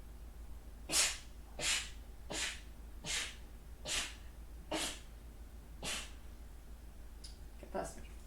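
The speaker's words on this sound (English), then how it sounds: "Yes, those were sneezes." Sneezing from pepper up the nose, a string of about nine short, breathy bursts at a fairly even pace, faint against a low steady hum.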